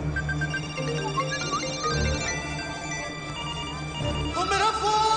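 A phone rings with a melodic electronic ringtone, a sequence of bright repeating tones lasting several seconds, with background voices and room noise.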